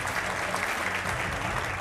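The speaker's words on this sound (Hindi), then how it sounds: "तालियों के साथ स्वागत कीजिए।" A TV news debate studio audience claps to welcome a guest, a brief and fairly soft burst of continuous applause with a low hum underneath.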